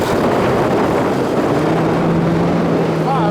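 Supercharged 5.2-litre V8 of a 2023 Ford Raptor R running steadily, a loud broadband engine roar with a low hum that settles into a steady tone partway through.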